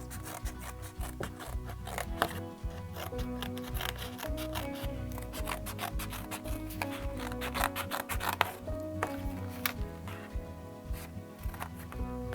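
Scissors cutting out a traced card piece for a paper prawn craft, close and continuous snipping and rustling of card in a steady irregular rhythm, with no talking.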